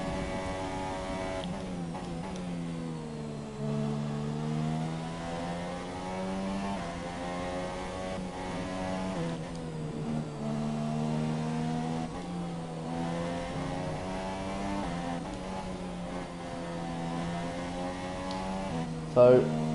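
An F1 car engine screams through fast laps in a Japan Grand Prix racing game, a steady high whine rising and falling with gear shifts, while someone talks over it throughout.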